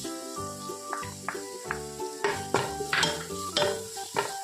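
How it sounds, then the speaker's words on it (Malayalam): Crushed ginger, garlic and green chili go into a hot pan of ghee rice, with sizzling, frying and the clatter of stirring against the pan under steady background music. "ഇനി നമുക്ക് നേരത്തെ നമ്മൾ ചതച്ച് വെച്ചിരുന്നില്ല ഇഞ്ചി, വെളുത്തുള്ളി, പച്ചമുളക്, ആ കൂട്ടും കൂടെ ഒന്ന് ഇട്ട് കൊടുക്കാം"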